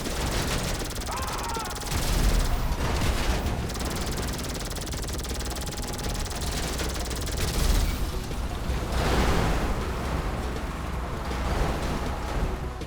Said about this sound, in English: you do have to destroy the vehicles with the garbage turret on the Scarab.